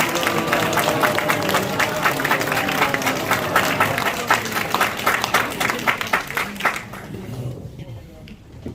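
A crowd at a church fundraising evening claps steadily while people bless one another, with dense sustained applause under a murmur of voices, tapering off near the end.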